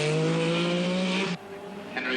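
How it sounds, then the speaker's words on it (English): A Lancia Stratos rally car slides off a slippery forest road, its engine note loud and droning with strained harmonics, then cutting out abruptly before a brief renewed burst near the end. "he puts the sleek Lancia Stratos off one of the slippery forest roads"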